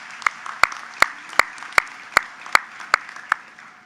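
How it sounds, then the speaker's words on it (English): Slow, evenly spaced claps ring out one at a time, about nine sharp strikes over a faint bed of scattered clapping, at a spring commencement ceremony. "let's give a round of applause for their service"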